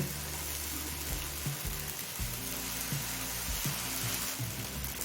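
Ginger, garlic and green chili paste frying in a pan of spices for chicken ghugni gives a steady, close sizzle that carries on throughout without a break.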